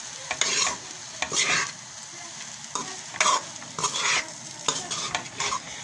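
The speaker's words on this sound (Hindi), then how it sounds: "थोड़ा थोड़ा डाल के मिक्स कर लेंगे।" Fried rice stirred and frying in a pan, with steady sizzling and repeated scraping strokes of a spoon or spatula, close up and with no talking.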